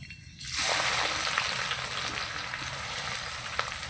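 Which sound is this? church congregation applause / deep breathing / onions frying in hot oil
onions frying in hot oil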